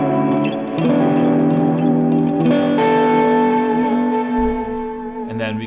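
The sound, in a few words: electric guitar through Axe FX 3 multitap delay effect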